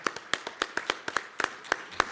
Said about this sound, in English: I'd like to give them a round of applause for their support